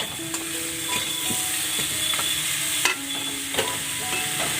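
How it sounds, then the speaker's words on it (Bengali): Vegetables and chicken fry on a low flame with a soft steady sizzle, while a utensil scrapes and clinks against the pan every second or so. No one speaks. "দিয়ে সমস্ত সবজি, চিকেন যা আছে এখানে, ভেজিটেবল চিকেন সবটাই ভেজে নেবো এবং খুব লো ফ্লেমে আমি এগুলো ভাজতে থাকবো"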